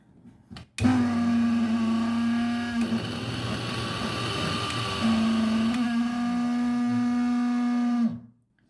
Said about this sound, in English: As you saw, it is in a working state, but since it is a very old mixer grinder, the motor isn't perfectly working.